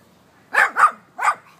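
A dog gives three quick, sharp barks in a row, close by, with a short pause before the last one.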